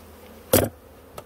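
Honeybees buzz around a beehive during a beekeeping inspection: one loud, close burst of buzzing, then a couple of fainter passes over a quiet background.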